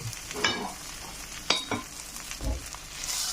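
A tacos filled with aubergine, tuna, mushroom and cheese browning in a pan, soft steady sizzling broken by a few sharp clacks and scrapes of a utensil, close by with no talking.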